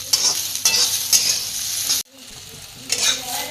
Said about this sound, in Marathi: मी 5 मिनिटं चांगली अशी मस्त तेलात भाजून घेतली